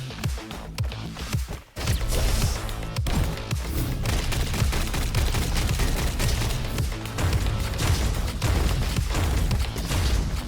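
Shooting Fly Guy out of the sky in a video game, a nearly continuous barrage of rapid gunfire and booms over a loud busy game soundtrack after a brief lull, no talking.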